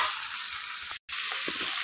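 Meat added to a pan of reddish fried onions gives a brief, continuous close sizzle with a momentary cutoff midway before the hiss resumes.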